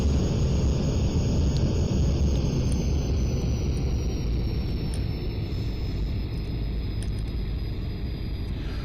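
Airplane engine in the Aerofly FS 2 flight simulator, a loud steady droning rumble that eases off slightly as the throttle is pulled back.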